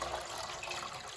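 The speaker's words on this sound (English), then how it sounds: "we want to start by pouring the water inside the container, inside the water reservoir" Water poured into the reservoir of an espresso machine, a steady broadband splashing and trickling that runs unbroken and fairly close for the whole short stretch, with no talk over it.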